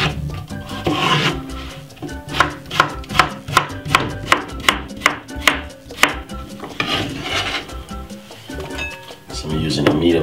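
A knife chops a medium-sized cucumber on a board in about a dozen crisp, evenly spaced strokes, close and clear, with quieter handling noise before and after.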